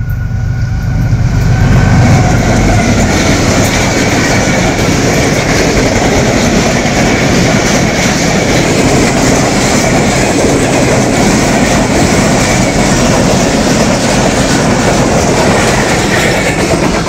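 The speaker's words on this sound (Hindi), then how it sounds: "आज आपको दिखाते हैं शालीमार एक्सप्रेस जो कि कराची की तरफ रवाना है और ये इस टाइम 104 किलोमीटर की स्पीड पे आ रही है" The Pakistan Railways Shalimar Express, hauled by an American-built locomotive, passing at about 104 km/h: a loud rushing roar with rapid clickety-clack of wheels on rail joints, building quickly and staying intense throughout.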